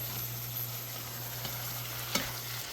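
Shrimp frying in a pan for a creamy pasta, a large batch cooking at once, giving a steady close sizzle with a faint clink of stirring, no voices.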